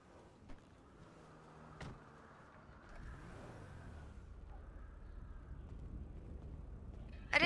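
Car engine from a GTA 5 roleplay game rising into a steady mid-pitched drone with a soft whir, moderately quiet and continuous, with no talking over it.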